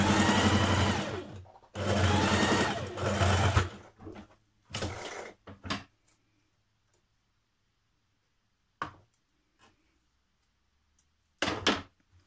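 A sewing machine top stitches slinky fabric in a blouse, running in two long bursts and several short ones, then falling mostly silent apart from a few brief handling taps.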